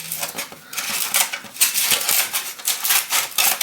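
A plastic seed-starting container being cut for tomato seedlings, heard as a quick run of close, crisp snips and crackling plastic clicks.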